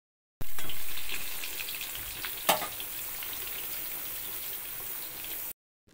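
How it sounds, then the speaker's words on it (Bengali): Potato pieces fry in hot oil for biryani over a stove, giving a loud, continuous close sizzle that eases slightly over time, with a brief sharp clink partway through. "আমাদের সম্পূর্ণ আলু ভাজা হয়ে গেছে বন্ধুরা"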